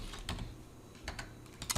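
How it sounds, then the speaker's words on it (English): Computer keyboard typing comes through as quiet, close clusters of irregular key clicks and taps, with pauses between short bursts and no talking. "Man, talking and typing."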